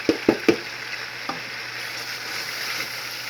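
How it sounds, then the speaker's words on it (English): Tomato sauce simmers and sizzles in a pan as a soft, steady frying hiss, opened by a few sharp clinks of a utensil against the pan and one more knock a moment later. "So now I'm just cooking my tomato sauce."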